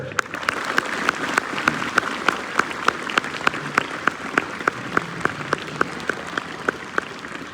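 An audience claps at a school teachers' award ceremony on Marathwada Liberation Day, a dense, steady applause with a few sharp individual claps standing out, sustained for the whole stretch without speech.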